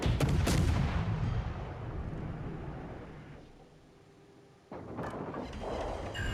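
Naval gunfire in a ship combat video game: heavy booming cannon blasts rumble loudly near the start, fade through a lull, then a fresh volley of rolling artillery-like fire returns.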